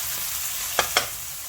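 Mutton mince frying with garlic and ginger gives a steady close sizzle, broken by two quick spatula scrapes in the pan.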